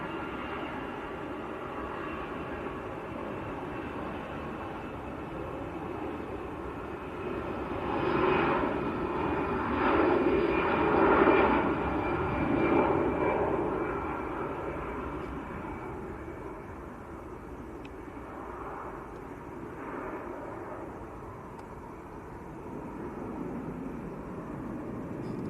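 An EasyJet Airbus A320 taxis at Manchester Airport, a continuous jet engine rumble that swells to a louder peak midway and then eases back to a steady drone.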